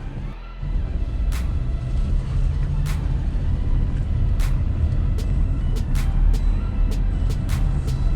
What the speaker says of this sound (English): we're going to take it for a test drive